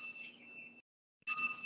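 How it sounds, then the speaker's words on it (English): Two bells borrowed from a grandfather, swung and rung, give a bright sustained metallic ringing with strong overtones, stopping briefly into silence before a fresh, louder strike rings out again close by. "I borrowed two bells from my grandfather over Christmas, and this is as far as I've got with them so far."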